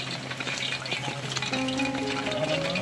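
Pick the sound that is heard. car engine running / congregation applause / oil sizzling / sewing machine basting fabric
oil sizzling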